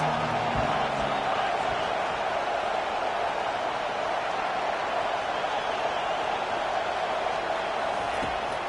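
Stadium crowd noise from the NCAA 25 college football video game forms a steady, broad roar of many voices, holding at an even level throughout with a few faint low thumps near the start.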